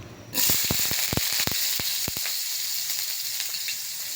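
Sliced ginger hits hot cooking oil in a pan, bursting into a loud, steady sizzle with a few sharp crackles and pops at the start, then settling into a continuous hiss, close up and alone.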